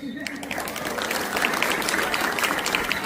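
A school audience at a quiz competition applauds a team, many hands clapping in a dense, steady patter that swells slightly and holds at moderate loudness, with a voice briefly at the start.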